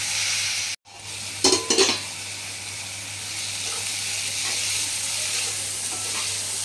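Salted onions cook in a pan for a chama dumpa curry, with a continuous close sizzle, a sharp break near the start and a few clattering stirs.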